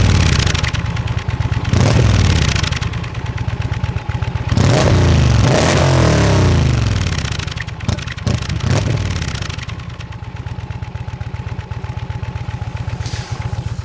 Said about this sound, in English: I'm going to bring that microphone closer to the exhaust so that you get a real nice impression of the exhaust.